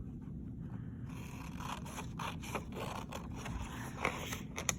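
Scissors slice through a folded single sheet of paper while making a small book, a steady rasping scrape running through the whole stretch with a couple of sharper snips near the end, close and moderately quiet.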